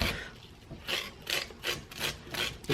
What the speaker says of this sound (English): You gotta scrape it until, you know, the cob's turning nice and white there